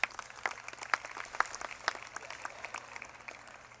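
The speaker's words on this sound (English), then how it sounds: "so let's give a round of applause for that." Applause from the audience at a university commencement ceremony, a modest, distant-sounding round of clapping with a few sharper individual claps standing out, steady and without speech.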